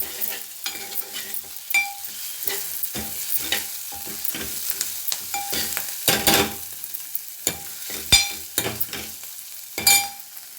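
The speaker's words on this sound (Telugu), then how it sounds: "అల్లం వెల్లిగడ్డ పేస్ట్ వేసుకోవాలి. వేసిన తర్వాత కొద్దిగా వేయించుకోవాలి." Ginger garlic paste sizzling in a pan for a tomato and bottle gourd curry, with frequent sharp clinks and scrapes of a spoon stirring throughout, close and moderately loud, no voices.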